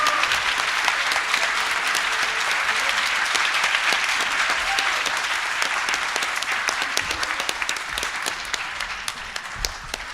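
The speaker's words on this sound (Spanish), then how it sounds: "Un aplauso para el equipo," An audience bursts into sustained applause for a team, dense steady clapping from many hands filling the room for about ten seconds, with no speech over it.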